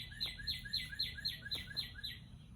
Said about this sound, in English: now there's this bird that just started chirping really loudly